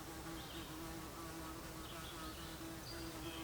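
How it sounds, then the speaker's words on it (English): A yellow jacket wasp buzzes nearby in quiet morning surroundings at a state park in Ohio, a faint, wavering drone that drifts closer and farther without any talk. "Actually, it's a yellow jacket."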